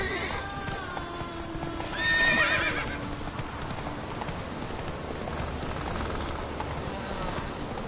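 In the video game The Witcher 3: Wild Hunt, a horse gallops with steady rhythmic hoofbeats over a rain-like patter, and a neigh rises briefly near the start while a voice speaks under the hoofbeats.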